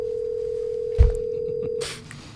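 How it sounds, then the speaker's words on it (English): Electronic telephone tones play through the sound system at a town council budget meeting: a long steady dial-style tone, then a short burst of higher tones, with a thump and some room noise. "Somebody got a phone going?"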